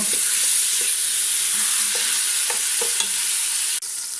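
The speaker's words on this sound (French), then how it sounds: "Ça va faire revenir la viande quelques minutes pour lui donner donc une petite coloration." Meat browns in a pot for chorba, a French-style North African soup, giving a loud, steady sizzle with a few soft stirring clicks and no talk.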